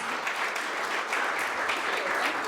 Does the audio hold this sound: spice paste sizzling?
no